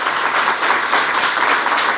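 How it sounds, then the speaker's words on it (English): An audience at a conversation event gives a sustained round of applause, steady and dense throughout with no voices over it. "Let's give Tony a round of applause."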